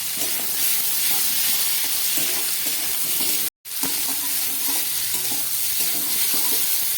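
Cucumber, potato and stem vegetables fry in oil with radhuni spice tempering for a fish curry, a loud, continuous close-up sizzle with stirring, broken by a brief silent gap midway.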